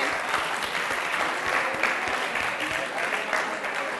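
A quiz show audience claps for the competing teams, with dense, steady applause running the whole time without pause.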